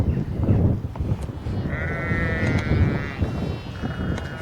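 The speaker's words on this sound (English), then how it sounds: "The sheep are making so much noise" Sheep bleat on a coast in the Scottish Borders, several drawn-out calls overlapping near and far over steady wind and outdoor rumble.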